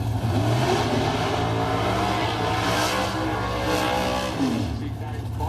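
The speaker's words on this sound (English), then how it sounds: "Quite a good burnout coming out from Murray Bridge here in South Australia for that lovely 57 Chevy." A 1957 Chevy doing a drag-racing burnout at Murray Bridge, South Australia: a loud, sustained engine roar with tyre howl throughout, while an announcer talks over it.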